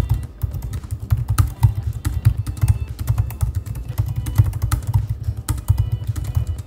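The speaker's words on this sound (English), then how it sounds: "the keyboard is really nice to type on" Typing on the keyboard of an M1 Max 16-inch MacBook Pro, a steady run of quick soft key clicks at close range with no talking.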